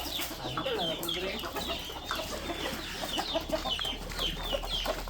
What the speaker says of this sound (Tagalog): Mga manok na Pogi